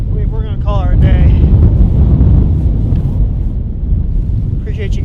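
Strong wind buffets the microphone during a cold outing minnow-shaking for fish, a loud continuous low roar with a few brief faint voices near the start and end.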